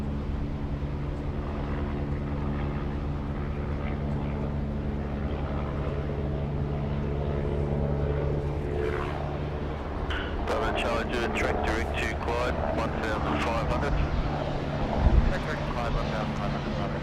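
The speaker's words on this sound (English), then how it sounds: "helicopter just hanging off out here to the west. It's the one making all that noise." A helicopter holds a hover just west of Sydney Airport, its steady low rotor and engine drone sitting continuously in the background, with a voice talking over it partway through.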